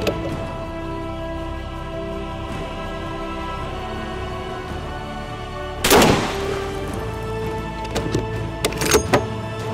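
A single loud, sharp blast from a 14.5 x 114 mm anti-tank rifle fired at a bulletproof glass pane outdoors, followed by scattered cracks and clatter over a steady background hum.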